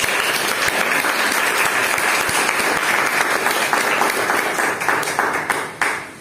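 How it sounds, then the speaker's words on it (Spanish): A church congregation applauds during a sermon, steady massed clapping from many people, loud and continuous before tapering off near the end. "Denle un aplauso al que lo hizo libre."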